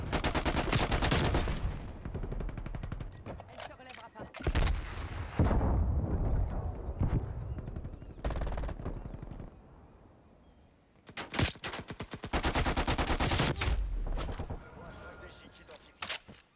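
G3 rifle fire in Black Ops 2 comes in loud rapid bursts split by quieter gaps, with voices talking in the pauses.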